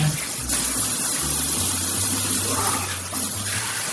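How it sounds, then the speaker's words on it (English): Tap water runs steadily for hand washing in a home kitchen, a constant close hiss and splash with a low pipe hum underneath, and no talk. "I'm gonna wash my hands."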